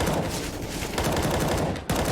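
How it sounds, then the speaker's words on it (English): Rapid gunfire rattles in a Counter-Strike: Global Offensive match, dense continuous bursts of automatic shots filling the short stretch, loud and close, with a brief gap near the end. "Spam war between Niko and Rain"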